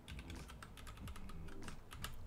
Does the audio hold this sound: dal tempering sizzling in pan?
no